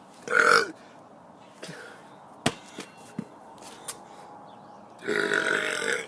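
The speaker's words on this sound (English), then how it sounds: "I owe you 1 extra burp." A person lets out two loud, rough burps, one near the start and a longer one at the end, separated by quiet stretches with a few sharp clicks and taps.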